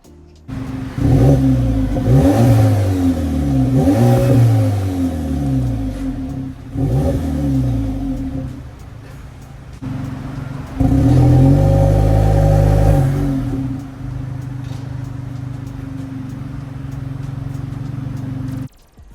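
A 2018 VW Polo GTI's 2-liter turbo petrol engine with a 6-speed DSG gearbox revs hard through rising gear-like sweeps, dropping and climbing again, then settles into a steady loud drone; no talking.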